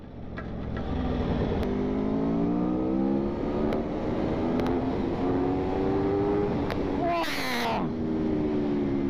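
A 2021 Aprilia Tuono V4 Factory 1100 motorcycle accelerates through rising, falling revs, its engine note climbing and shifting with wind rush, heard close from the rider's position as a voice talks over it.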